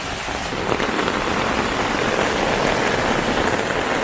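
Heavy mountain rain pours down in a dense, steady hiss, drumming on surfaces close by with no voices.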